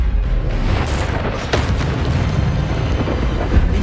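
A spell effect from a Harry Potter video game bursts out as a loud, dense, booming whoosh, with a sharp crackling flare near the middle and a continuous rumbling roar filling the rest of the moment.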